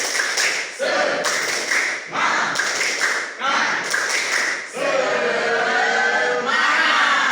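Students in an Indonesian classroom doing a rhythmic spirit clap in unison, loud bursts of patterned clapping alternating with the group chanting together.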